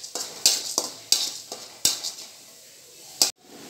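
Chana dal fries in a pan while a spoon stirs it, with soft sizzling under several sharp metallic scrapes and clinks against the pan, close up.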